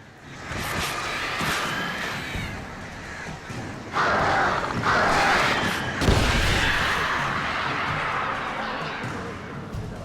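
Crows attack in the horror video game Alan Wake, with harsh cawing and flapping bursts mixed with crashing impacts, loud and dense over a continuous noisy game soundtrack.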